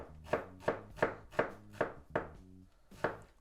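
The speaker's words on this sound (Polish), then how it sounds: "Myślę, że połowa takiej średniej cebulki wystarczy. Także szybko tutaj pokroimy w kostkę." Half a medium onion is diced with a knife on a board, eight crisp, evenly spaced chops in quick rhythm with a short pause before the last, close and fairly quiet with no talk.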